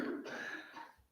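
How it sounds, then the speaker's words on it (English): A single faint cough rises from someone in the audience at a temple lecture, short and muffled at a distance, with nothing else around it. "I think everybody's just about coughing."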